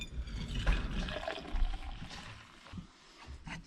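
Hot water pours steadily into a container, a soft continuous splashing and trickling, close and fairly quiet.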